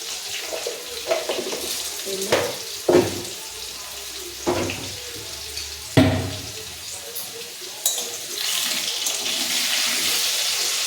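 Something frying lightly in a pan, cumin just added, makes a steady broadband sizzle with a few sharper crackles and spatters over about eleven seconds, fairly close and moderately loud.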